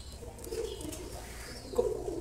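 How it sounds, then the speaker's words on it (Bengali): Pigeons in a breeding loft give soft, low coos, one round in the middle and another near the end, over a dull background rumble. "তা আমি কবুতরগুলো একটু দেখাই"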